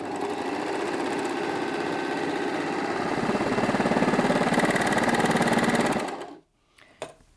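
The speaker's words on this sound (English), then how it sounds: "But let's go ahead and sew this 3-thread narrow overlocking stitch now." A Brother 4234D overlocker stitches a 3-thread narrow overlock seam, its motor whirring in a loud, steady, rapid hum for about six seconds before winding down and stopping, followed by a couple of faint handling clicks.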